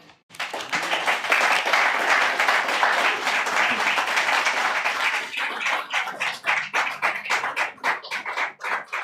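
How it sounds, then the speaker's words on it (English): Audience applause following a poetry reading: a dense wash of many hands clapping for about five seconds, then thinning into scattered, separate claps that taper off near the end. "Another round of applause for F. Douglas Brown, please."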